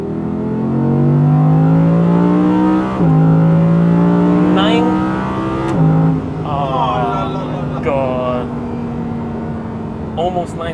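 An Audi V10 engine revs hard from inside the car, its tone climbing through the gears toward the limiter in a few sweeping rises, loud and close, with a voice speaking over the later part.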